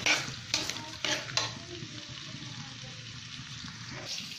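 Chopped onions fry in a pan, a steady soft sizzle with a few brief stirring scrapes near the start, moderately quiet and with no voices.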